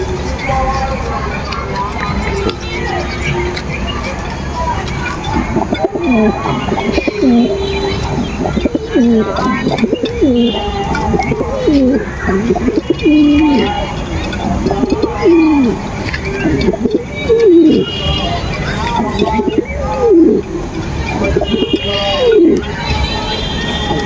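Teddy pigeons in a loft make repeated deep, rolling coos, with a male calling over and over. Chirps and crowd murmur sit underneath, and someone speaks throughout.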